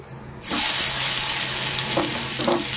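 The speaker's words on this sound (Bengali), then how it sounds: "তেলে দিয়ে দেবো পেঁয়াজ কুচি" Chopped onion dropped into hot oil, a sudden burst of loud sizzling after a quiet start that keeps crackling steadily, with a couple of stirring clinks.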